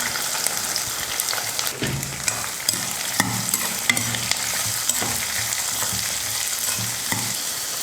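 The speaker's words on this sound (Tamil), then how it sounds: "இப்போ வெங்காயம்லாம் நல்லா வதங்கட்டும்." Chopped onions and green chillies fry in a pan, a steady close sizzle broken by soft scraping stir strokes, with no talk.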